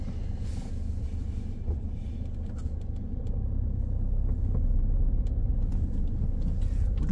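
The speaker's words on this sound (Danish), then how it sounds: "Så lad os køre en tur." A car drives along a snowy road during a driving lesson, its steady low engine rumble and tyre noise close and continuous, swelling slightly louder in the second half with no talking.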